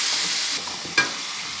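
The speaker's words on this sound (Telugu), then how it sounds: "నెక్స్ట్ టమాటా వేసుకుందాం. ఇది బాగా వేగించుకోవాలి." Tomatoes frying in a pan with onion and ginger-garlic paste, a steady close sizzle with a brief stir or clatter near the one-second mark, no voices.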